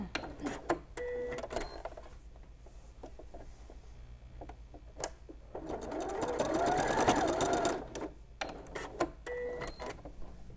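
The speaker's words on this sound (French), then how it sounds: "je vais venir faire un petit point de taquage sur chacune des pointes pour tenir les 2 épaisseurs ensemble" A sewing machine runs a short forward-and-reverse backstitch through the two layers of a lined knit toque, with a few ticks and handling clicks before and after a steady whirring burst of stitching in the middle.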